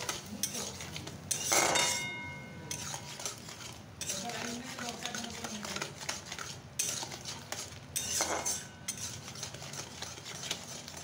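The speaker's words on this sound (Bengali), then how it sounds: "তো এরপর চিনিটা দিয়ে ভালো করে নাড়াচাড়া করে নেব।" A spoon stirs hog plum chutney in a pot after sugar goes in, with repeated metallic clinks and scrapes against the pan in short bursts over a low background.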